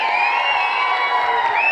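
A crowd of supporters at the Hinton's Got Talent show cheers and shouts, with high-pitched voices and whoops sustained as a loud, continuous roar.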